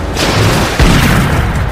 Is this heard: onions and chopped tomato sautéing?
no